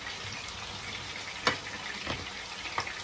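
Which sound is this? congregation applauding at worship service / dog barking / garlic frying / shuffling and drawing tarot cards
garlic frying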